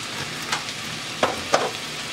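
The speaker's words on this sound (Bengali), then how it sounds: "এখন ভালো করে মশলার সাথে চাউলটা ভেজে নিব।" Rice fried with chili and coriander powder in a little oil spits in a pan, with a continuous hiss broken by a few sharp stirring scrapes, for an achari khichuri with beef liver.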